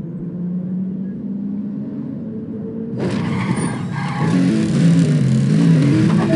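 Race car engine rumbling in a Need for Speed ProStreet drag race, a steady low drone that suddenly swells into louder, brighter revving with rising gear pulls and a hint of tire noise.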